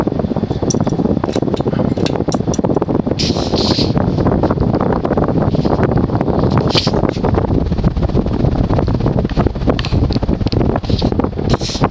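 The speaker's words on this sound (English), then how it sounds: "it's probably doing about 225 RPM on high, and this is a 56-inch fan" A 56-inch Fasco Great Room ceiling fan from around 1987 spins on high speed at roughly 225 RPM, giving a steady, loud whooshing rush of moving air with a constant broadband wind-like roar and no talking.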